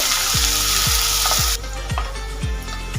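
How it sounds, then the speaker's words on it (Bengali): Chopped onion fries in hot oil with a loud, steady sizzle that softens partway through, accompanied by a series of regular scraping strokes from a spatula in the pan. "পেঁয়াজটা লাল করে ভেজে নেব"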